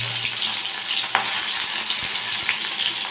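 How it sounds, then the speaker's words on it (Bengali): Bitter gourd frying in hot oil in a kadai, a dense continuous sizzle with a few soft stirring knocks, close and steady. "ভেজে নিয়ে আমি ফিরে আসছি"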